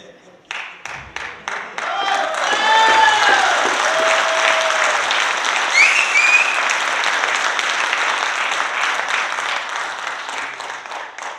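An indoor audience at a distributor meeting applauds. The clapping opens with a few separate claps, then swells into a sustained round of applause with whistles and cheering mixed in, before easing off slightly.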